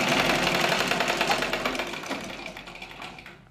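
A sewing machine stitches a baby bib in a steady, fast, close whirring run that slowly fades toward the end.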